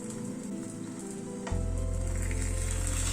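Palm batter patishapta crepes frying in a pan with ghee, giving a steady close sizzle that grows louder and fuller halfway through and then holds.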